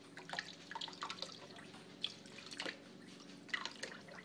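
Water trickling slowly from a kitchen tap turned very low into a tablespoon measure, irregular drips and splashes falling one after another, close and fairly soft, with no voices.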